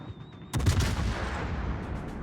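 Warship guns firing in a naval battle video game, a sudden loud boom that rolls into a long sustained rumble.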